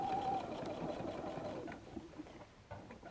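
A sewing machine backstitches the seam of a messenger bag with a brief, quiet whirring run that fades out after a second or two.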